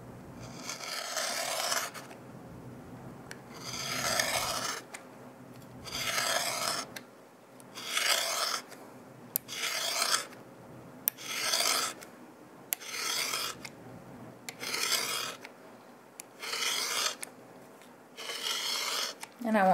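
Hair-cutting shears slicing across, heard as a rhythmic series of close, dry rasping strokes, about a dozen evenly spaced bursts separated by short pauses, with no talk.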